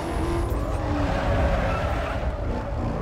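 A car drifting in Need for Speed Underground 2, with a steady loud engine roar and sustained tire squeal throughout, continuous and close.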